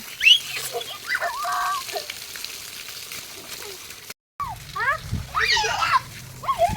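Water splashed onto children and adults at a farm house, with bursts of splashing and spattering mixed with excited shouts and children's voices, near and lively, broken by a brief silent gap.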